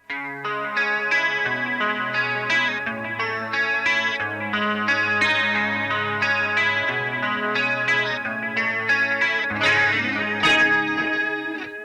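An electric guitar runs through a Line 6 Pod HD 300 processor set to a woozy, wobbling modulation tone, playing a continuous string of melodic notes and chords with no talking.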